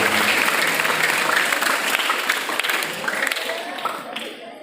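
Audience applause breaks out at an Islamic event welcoming guests from Darussalam Gontor, a dense steady clapping of a large crowd that stays loud throughout and thins slightly toward the end.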